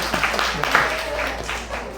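A small university class claps briefly, soft and scattered, with a few distinct hand claps close by.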